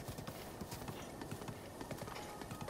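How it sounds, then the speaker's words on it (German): Link's horse gallops in Breath of the Wild in a steady, rapid clip-clop of hooves that runs throughout, loud and close, with a voice talking over it. "In einem entspannten Galopp."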